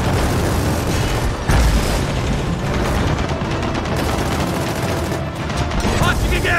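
A siege beast launching bombs in Gears of War 4, with dense continuous booming explosions and rattling gunfire, loud and crowded throughout, a heavier blast standing out partway through.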